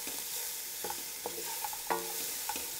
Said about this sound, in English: we're going to saute this